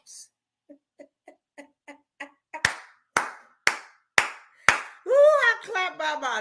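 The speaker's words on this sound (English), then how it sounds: "I will clap by myself" One person claps alone, starting with soft, sparse claps that grow louder and sharper, about a dozen in an even rhythm, followed by a voice speaking.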